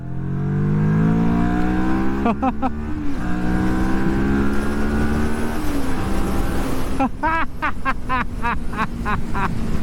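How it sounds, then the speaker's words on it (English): A 2023 Moto Morini Seiemmezzo STR motorcycle engine drones loudly and climbs in pitch as it accelerates, with rapid revving bursts and gear changes, close by. "It's got a good amount of punchiness to the motor, to the engine."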